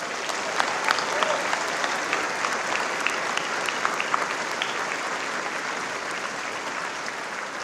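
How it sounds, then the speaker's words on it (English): Sustained applause from a large graduating class of court officers at a ceremony, dense steady clapping at even loudness throughout with scattered sharper claps. "Give yourselves a round of applause."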